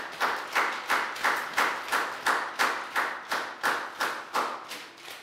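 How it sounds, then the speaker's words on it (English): A class of Year 4 children gives a round of applause in a classroom: about a dozen evenly spaced, fairly loud clap bursts in a steady rhythm, each clap sharp and decaying quickly, with no voices. "So big round of applause."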